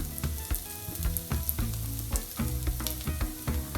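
Dry spice powder sizzles and fries in a pan with masala potatoes, a dense continuous crackle with soft stirring scrapes and thumps, close and fairly loud, with no voices.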